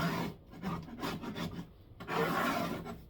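A metal hive tool scrapes old wax off a beehive frame foundation in repeated close, raspy strokes with brief pauses between them.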